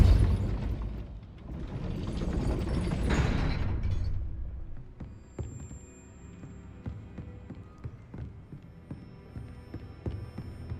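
A Depulso force spell in Hogwarts Legacy hits with a loud rushing burst of broadband energy for a few seconds, then settles into quieter scattered clicks, knocks and a faint steady hum.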